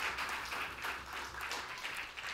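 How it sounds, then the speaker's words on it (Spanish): Audience applause breaks out at a Spanish-language event honouring Monsignor Oscar Romero: continuous, even clapping from a crowd, moderately loud and sustained, with no speech. "Yo les quiero pedir un aplauso para ellos"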